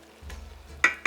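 Food fries in a pot while being stirred, a soft low sizzle underneath with two sharp bright scraping clatters of a utensil against the pot near the end.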